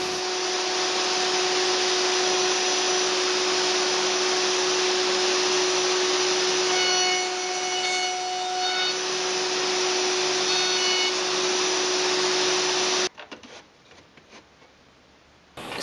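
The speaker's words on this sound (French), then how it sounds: "L'usinage des queues d'aronde se fait de manière classique avec mon gabarit." A handheld router cuts dovetails in several boards held together in a dovetail jig, giving a loud, steady high-pitched whine that runs without a break for about thirteen seconds and then cuts off abruptly.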